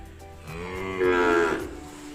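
A weaned Charolais or Beefmaster heifer calf gives one drawn-out moo, rising and swelling in the middle before tailing off, close and clear over quiet farm background with no talking.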